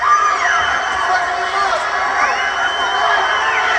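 Wrestling fans in a packed arena yell and cheer continuously while two wrestlers brawl out among the crowd, with young kids' shrill voices rising through the loud, dense roar.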